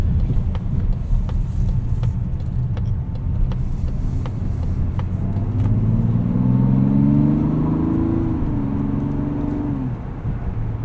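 A 2024 Mazda CX-90 Turbo with its 3.3-litre mild-hybrid engine drives along, giving a steady interior engine drone and road rumble that swells in a smooth rising pitch as it accelerates, without a voice.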